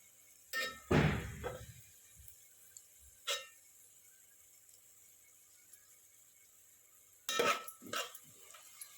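Fried onion is scooped from a pan onto a plate for veg biryani: a few scraping metal clinks in a quiet kitchen, one cluster near the start, a brief tap in the middle and two more near the end.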